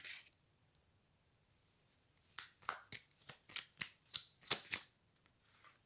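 Tarot cards being shuffled by hand, a quick run of about nine crisp riffling flicks, close and fairly quiet, after a near-silent pause.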